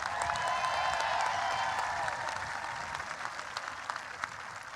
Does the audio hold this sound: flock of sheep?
no